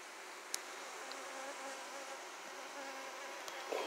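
Honeybees swarming around an open hive give a steady, dense buzzing drone close by, unbroken and with no voices.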